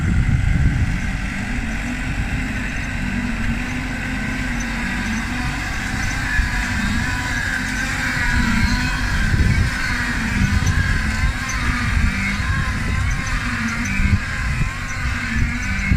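A New Holland tractor engine drones steadily at constant load while pulling a seed drill planting onions, a continuous low rumble with no pauses or talk.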